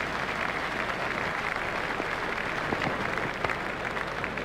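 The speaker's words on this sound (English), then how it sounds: "The crowd are giving him an excellent round of applause." A cricket stadium crowd applauds a batsman's half century, with dense, sustained clapping holding steady throughout and no break.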